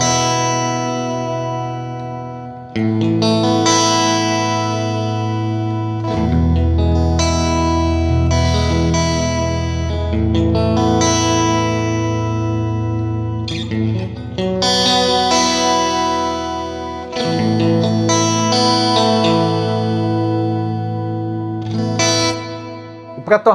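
Electric guitar with a mostly clean tone lightly dirtied by a small amount of overdrive, playing sustained ringing chords and notes with short pauses, loud and close.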